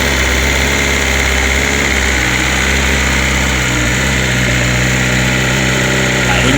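A 2020 BMW S1000RR sport motorcycle engine idles roughly and steadily up close, a continuous low rumble with a slightly uneven pulse and no talking.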